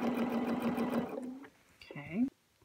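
A sewing machine stitches along the edge of a piece of fabric in a fast, even, buzzing run for about a second and a half, then stops. A voice follows briefly afterward.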